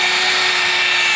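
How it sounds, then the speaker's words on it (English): A power driver runs a screw into a beam of a dragon fruit trellis frame, a loud, steady, close whine with a constant hum lasting the whole short burst. "I'm only putting 1 screw on here"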